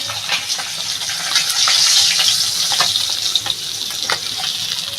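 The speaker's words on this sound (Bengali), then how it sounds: "মাছটা আমি লাল লাল করে ভেজে নিয়েছি" Rohu fish pieces fry in hot oil in a pan, a loud, close, crackling sizzle with scattered sharp pops and spatters running throughout, swelling briefly in the middle.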